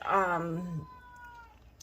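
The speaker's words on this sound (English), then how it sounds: "That's my kitty catty." A pet cat lets out a single clear, close meow that slides downward, followed by quiet room tone and a faint click at the end.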